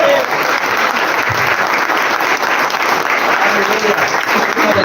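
A church congregation claps in praise, a continuous dense wash of applause sustained throughout, fairly loud and even, with a blur of voices mixed in.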